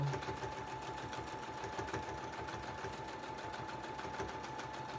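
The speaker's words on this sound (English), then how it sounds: "That's why you do not want to watch me sew." A sewing machine stitches lace onto a shabby-style journal cover, running close and steady with a fast, rhythmic mechanical chatter and no talking.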